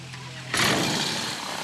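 A Savannah three-axis ultralight with an 80-horsepower engine starts up on the parking area. After a quiet moment, a sudden loud burst of broadband engine roar sets in and holds steady, close by.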